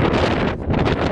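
Strong wind buffets the microphone aboard a motorboat being broken in on the Volga, a loud, continuous roaring rush that swells and dips briefly.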